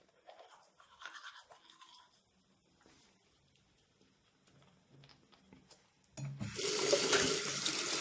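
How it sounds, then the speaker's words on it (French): A toothbrush scrubs the tongue in short, irregular, soft bristle strokes close by, and then a bathroom tap opens and water runs loudly and steadily into the sink. "C'est très important de brosser sa langue."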